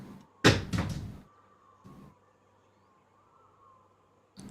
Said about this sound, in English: Cat's knocking things off the kitchen counter.